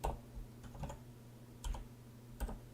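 Quiet keystrokes on a mechanical computer keyboard while typing Chinese characters: three or four separate clusters of clicks spaced across a couple of seconds, close and faint, with no talk.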